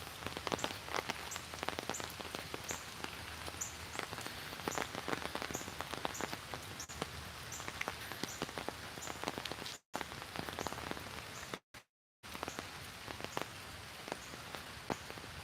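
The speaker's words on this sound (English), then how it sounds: "I think it's supposed to rain all day." Steady rain falls outdoors, a continuous close patter of drops striking surfaces with sharp individual ticks throughout, and no voices.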